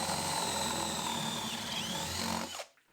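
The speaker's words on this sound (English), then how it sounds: "I can then drill out my main hole." A power drill bores the main hole for a door latch through a wooden door, a steady, loud whirring grind that runs for over two seconds and then winds down and stops.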